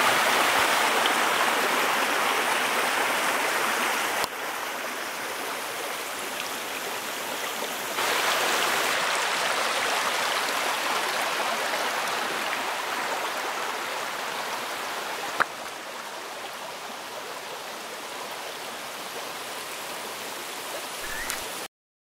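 A creek flows steadily, a broad continuous rush of running water with no voices, staying fairly even in level throughout.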